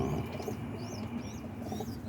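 Boston ripping roller pigeons cooing in soft, repeated calls over a steady background hum, with faint chirps from other birds.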